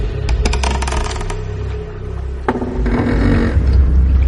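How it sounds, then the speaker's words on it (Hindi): Wooden deck planks aboard a ship crack and clatter in a rapid burst of sharp snaps, followed by a single loud crack and a grinding, creaking twist, close and loud with no talking. "डेक पे कौन लकड़ी की फट्टियों को ऐसे तोड़ मरोड़ रहा था"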